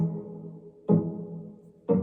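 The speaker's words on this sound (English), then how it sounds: "There's a cello doing a low note octave," Pizzicato cello plucking a low octave note, two sharp plucked attacks about a second apart, each ringing and decaying, close and alone.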